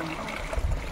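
Water from a waterfall flowing down a stream on a Konkan farm, a steady rushing gurgle close by with low rumbling buffets, no voices.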